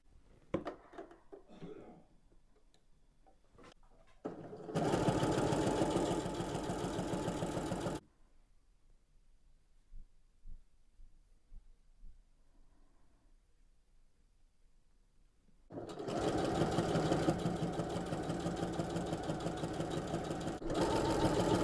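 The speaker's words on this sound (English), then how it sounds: "I'm going to put liner stitching down there." A sewing machine stitches a liner seam on a drawstring cosmetics bag in two steady bursts of fast mechanical whirring, separated by a quiet pause with small handling noises.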